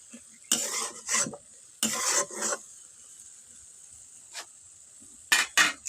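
Dried red chillies are stirred in a pan with a metal spatula while making tok pata chutney, producing loud scraping strokes in short paired bursts separated by quiet gaps.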